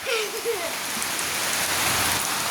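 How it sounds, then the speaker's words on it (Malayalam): Heavy rain falls in a continuous loud wash, with water dripping and splashing nearby and a brief voice-like sound early on. "നല്ല മഴയാണ് ഇവിടെ ഒക്കെ. നോക്കിയ വെള്ളം ഇങ്ങനെ ഇറ്റുന്നുണ്ടല്ലേ."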